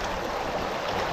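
A forceful river rushes by close, a dense continuous roar of flowing water with no pauses and no voices over it.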